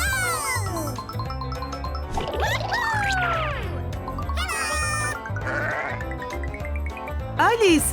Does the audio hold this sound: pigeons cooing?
no